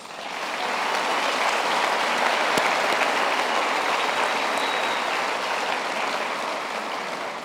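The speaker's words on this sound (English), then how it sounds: "give yourselves a warm, big round of applause" University graduates at a graduation ceremony applaud themselves, a broad sustained wash of clapping from a large hall crowd that swells in and holds steady.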